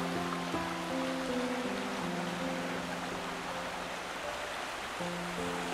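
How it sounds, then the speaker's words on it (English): Clear water flows steadily in a creek at Elk Creek Campground, a constant close rushing babble with a faint tonal hum running underneath. "Hear that relaxing water."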